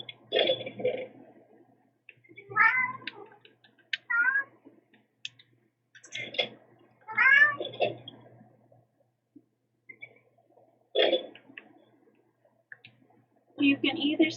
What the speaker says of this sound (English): You can either stop meowing and lay on the bed